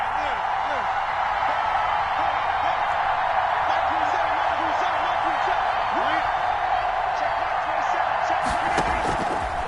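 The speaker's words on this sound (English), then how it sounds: "The crowd getting into it as we come up on a big 3rd down." Stadium crowd noise from an American football video game on PS4 builds ahead of a big third down, a steady loud roar of cheering filling the scene with faint commentary-like voices underneath.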